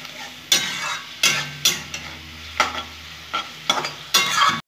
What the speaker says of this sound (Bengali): ভালো করে আমি নেড়ে নেব।